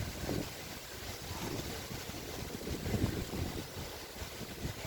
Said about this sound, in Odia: ବଢ଼ିଆ ଲାଗୁଛି ପବନ ପୁରା।